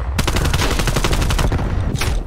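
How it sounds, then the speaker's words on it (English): Rapid automatic gunfire rattles loudly in Black Ops Cold War, a dense burst of shots in quick succession followed by a final sharp report. "I shot so many bullets there."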